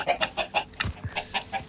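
Several Minecraft chickens cluck in quick, repeated bursts, nearby and fairly loud, with a rapid, choppy rhythm.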